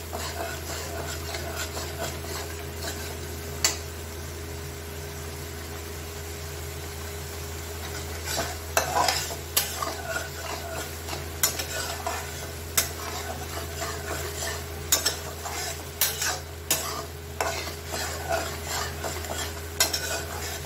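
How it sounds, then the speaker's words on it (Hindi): Masala for paneer butter masala is roasted in a pan while a spoon stirs and scrapes it, a low steady sizzle under recurring rasping strokes that grow busier toward the end. "चलाएंगे और अपना मसाला भूनेंगे अच्छे से"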